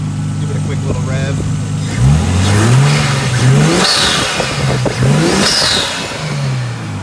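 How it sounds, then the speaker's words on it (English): A Nissan Skyline's RB20 engine idles, then gets several quick revs that rise and fall, loud and close, with a brief high whine at the peaks. "But give it a quick little rev."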